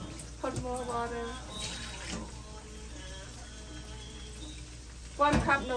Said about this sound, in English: Put more water.